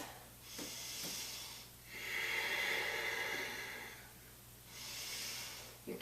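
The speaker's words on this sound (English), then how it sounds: "4 more breaths." Slow, deep breaths during a morning yoga practice, with a long audible inhale and exhale through the nose, close and soft and without talk.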